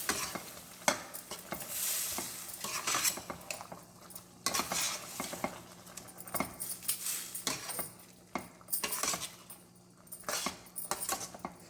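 A spoon scrapes and clatters through prawn gravy in a pan, with repeated stirring strokes over a soft, steady sizzle of simmering oil; no one speaks.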